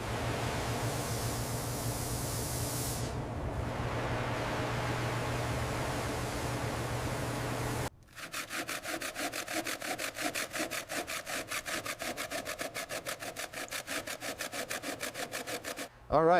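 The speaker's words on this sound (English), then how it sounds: "time to tackle this caked on grease" Caked-on grease is scrubbed off the metal of a 1923 Franklin Series 10 sedan, first as a smooth continuous hiss, then as fast, regular back-and-forth rasping strokes, close and steady.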